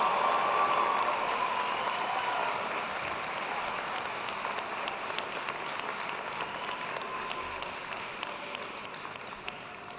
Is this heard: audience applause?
yes